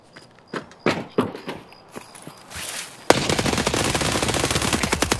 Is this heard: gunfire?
yes